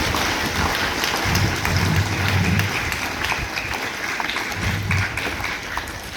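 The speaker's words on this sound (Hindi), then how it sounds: "पूरी टीम का एक बार जोरदार तालियां बजा करके स्वागत करें" An audience at a community gathering in India claps to welcome a visiting team, sustained broadband clapping with a dense, rain-like texture and faint low voices murmuring underneath.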